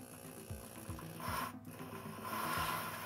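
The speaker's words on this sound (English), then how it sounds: "So I've rigged up a drill here." A drill turning a valve-lapping tool on a pitted Jeep engine valve: quiet, rhythmic grinding and rubbing strokes repeating about twice a second, close by.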